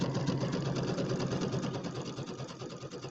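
A sewing machine stitching a serpentine stitch along a St. Patrick's Day settee pillow gives a close, continuous, evenly pulsing mechanical hum for the whole stretch, with no talking.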